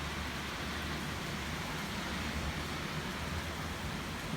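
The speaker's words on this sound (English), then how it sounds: "Of course it would start to rain as soon as I wanted to go outside." Steady rain falling outdoors on an evening in Auckland, New Zealand, a dense, even hiss of drops with no voices, holding at a constant level throughout.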